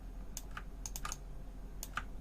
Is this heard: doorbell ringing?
no